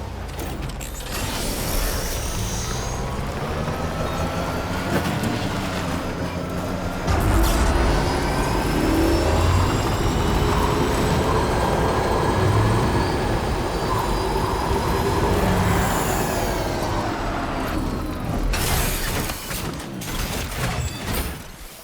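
A tri-cruiser vehicle in Death Stranding 2 driving along a road at night, a loud continuous mechanical rumble with whining, squealing tones and creaks that shift and rise over the drive.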